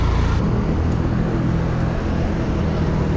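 A car passes close in city traffic during a bike ride in Mexico City, a steady loud rumble of engine and road noise that never fades.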